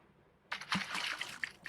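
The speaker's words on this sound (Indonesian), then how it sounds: "kita siram dulu guys." Toilet flushed in a home bathroom, a sudden rush of water starting after a short quiet pause and continuing as steady splashing and gurgling close by, with no talk over it.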